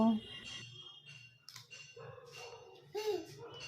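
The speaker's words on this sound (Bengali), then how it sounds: "কুকুর ডাকছে" A dog barks several times nearby in a home, the barks mixed in with a child and an adult talking.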